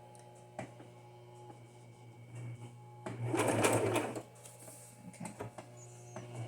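Sewing machine stitching through a cardstock junk-journal cover, quiet mechanical whirring with a louder burst of rapid stitching in the middle, a soft spoken word and light handling ticks around it.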